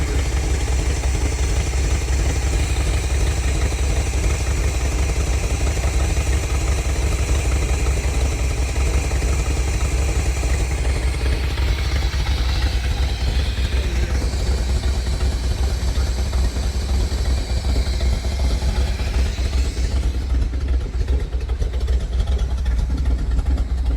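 A Ford Fairlane with a Y-Block V8 idling, a steady low rumble held at constant level throughout, close to the engine, with no voices over it.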